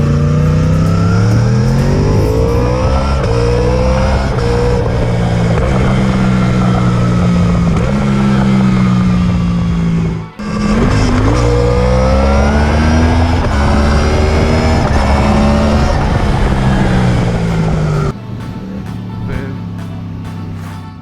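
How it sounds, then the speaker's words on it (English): A Yamaha R1 motorcycle's exhaust revs hard and loud up close, rising and falling through repeated throttle blips, with a brief cut near the middle before the engine settles toward idle. "let's get some exhaust notes and an explanation"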